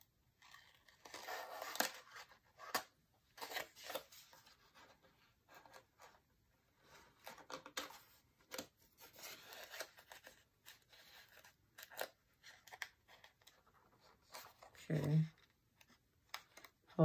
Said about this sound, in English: We're gonna have to cut this a little bit.